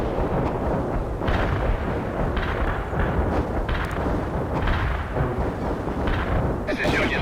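An artillery barrage in the video game World in Conflict, with dense, continuous rumbling booms and blasts layered close together, loud and sustained throughout.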